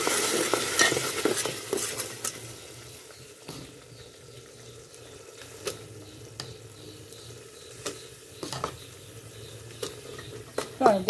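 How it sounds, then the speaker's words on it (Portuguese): Garlic frying in a pan on a farmhouse stove, a soft continuous sizzle with occasional sharp spoon taps and scrapes, close by. "O alho já tá bem fritinho aqui"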